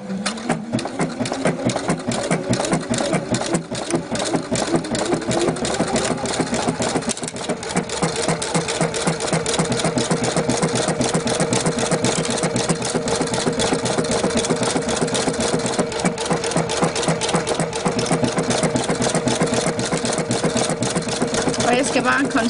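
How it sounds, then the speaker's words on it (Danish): A sewing machine stitches a bracelet over yarn with a fast, steady mechanical chatter that runs close and continuous throughout, with a voice speaking briefly at the start. "Så er vi klar til at sy."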